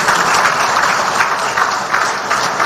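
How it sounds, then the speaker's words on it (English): Audience applause at a groundbreaking ceremony for a new biotech campus, a dense, steady wash of many hands clapping at close range throughout. "I think a bigger round of applause will convince her."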